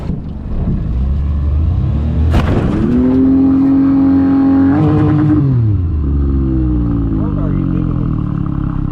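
A vehicle engine revs hard in two rising bursts, loud and close, then settles back to a steady idle rumble.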